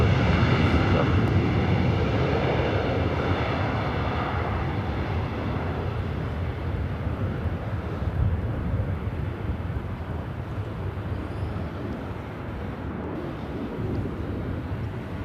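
A Southwest airliner on approach to runway 24 right at LAX, its jet engine roar broad and steady at first, then easing slightly quieter and more distant over the stretch, with faint wind buffeting and no voices.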